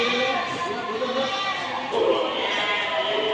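At a goat market in Deonar, a goat bleats in drawn-out, wavering cries close by, with people talking and a bustling crowd around it.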